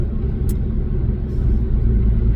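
Deep, steady engine rumble fills a car cabin while driving, low and continuous with a brief sharp click near the start and a slight swell toward the end.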